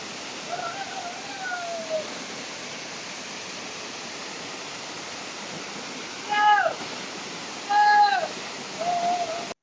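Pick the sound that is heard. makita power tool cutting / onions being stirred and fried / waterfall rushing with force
waterfall rushing with force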